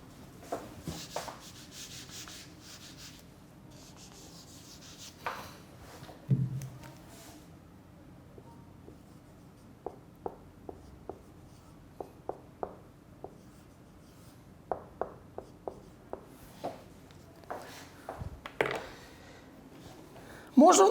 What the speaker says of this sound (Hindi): मैं ऊपर ही लिख देता हूँ।